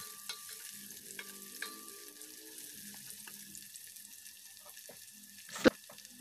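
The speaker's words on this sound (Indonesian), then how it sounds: "Masukkan udang rebonnya. Ditumis berbarengan sampai aromanya sedap dan amisnya hilang." Dried tiny shrimp (udang rebon) being sautéed with spices in oil, giving a quiet sizzle with faint scrapes and one sharp clack near the end, alone with no talk.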